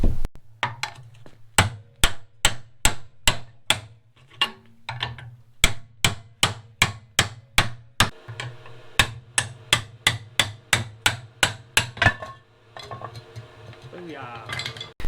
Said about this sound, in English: taking my pry bar and hammer and just whacking the brackets off the frame